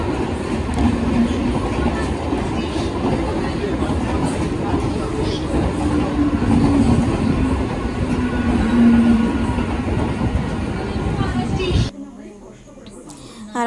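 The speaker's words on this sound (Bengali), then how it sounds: "তারপরে দেখছি এর মধ্যে আবার আরেকটা ট্রেন ঢুকে গেল।" Another train pulling into Bethuadahari station, a loud, close rumble of wheels and railcars rolling past steadily for around twelve seconds before the noise drops away sharply, with people talking in the background.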